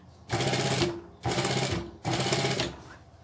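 A high-speed industrial sewing machine stitches shoe material in three quick bursts, each a dense whirring run of about half a second separated by short pauses, close and fairly quiet.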